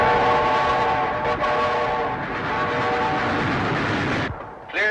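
A train in a 1934 film rumbles along steadily with a sustained horn-like tone sounding over the running noise, close and loud, fading slightly before a brief sharp burst.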